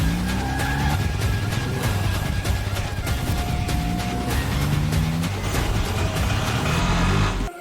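Car speeding off with tires squealing in a Tamil TV drama scene, a continuous loud engine roar and repeated screeching skids close by, running throughout.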